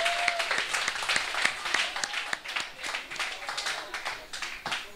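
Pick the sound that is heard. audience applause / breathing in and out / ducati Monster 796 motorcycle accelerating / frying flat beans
audience applause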